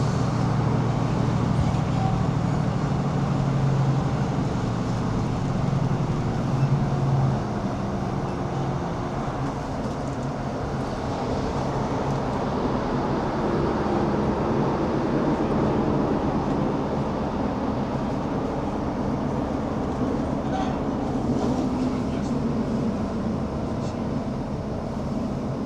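A ScotRail Class 156 diesel train runs along track through the Nith Valley, a steady low rumble and roll with engine drone heard from on board, continuous and fairly loud with no voices.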